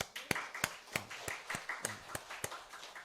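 Church congregation clapping during a Sunday worship service, about a dozen sharp, evenly spaced claps in a steady rhythm, fairly faint and slightly distant.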